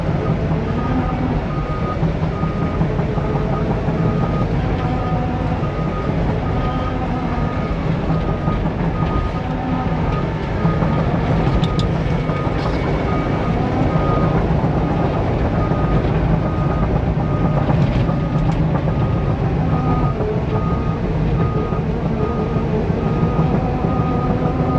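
A tractor grinds steadily uphill over rocky ground, a continuous low engine drone with rattling and clanking throughout, close and fairly loud, with no talking.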